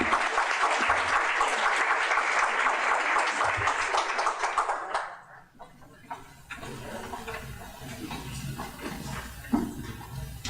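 A workshop audience applauds to welcome a speaker to the stage, sustained dense clapping for about five seconds before it fades into quieter room noise and shuffling.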